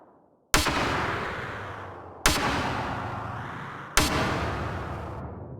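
A processed snare drum hit three times at even, spaced intervals, each strike a sharp loud crack swelling into a long boomy wash that rings out like a distant blast, reshaped by a time-morphing effect rack in Ableton.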